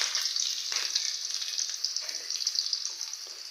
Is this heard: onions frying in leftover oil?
yes